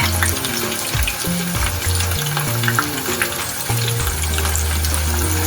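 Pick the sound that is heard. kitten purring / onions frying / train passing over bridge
onions frying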